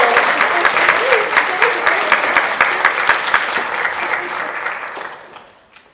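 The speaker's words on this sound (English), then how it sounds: "Let's get some applause going, everybody." A pageant audience applauds the newly crowned Miss Phenix City's Outstanding Teen, sustained dense clapping close by that thins and fades out toward the end, with a few voices cheering within it.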